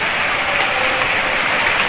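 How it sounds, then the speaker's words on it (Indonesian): Steady rain falls on plants in a home garden yard, a loud, continuous, even hiss of drops close by with no pauses or voices. "hari ini hujan di kotaku"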